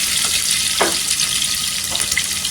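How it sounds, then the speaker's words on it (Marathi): Green chilli, ginger and garlic sautéing in oil, a continuous bright hiss of frying close by, with a couple of brief stirring scrapes and no talking. "हिरवी मिरची, अद्रक, इथे छान असं तेलावर परतून घ्यायचं."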